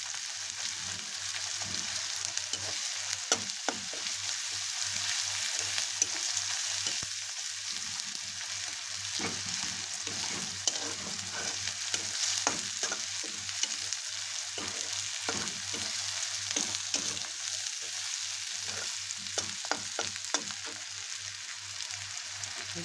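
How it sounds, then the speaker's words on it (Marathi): Cashew curry masala paste sautéing in oil in a pan, a steady close sizzle and fry with frequent scraping and stirring clicks from a spoon throughout, no voices. "पेस्ट करून घेतलेली ती टाकली चम्मचभर. तेल सुटूस तोपर्यंत परतून घ्यायचं."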